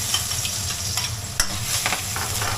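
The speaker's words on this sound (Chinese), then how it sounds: "炒蒜蓉了，是吧？" Minced garlic crackles in hot oil as it is stir-fried in a home kitchen pan, a constant close sizzle broken by sharp spatula clatters, with no talking.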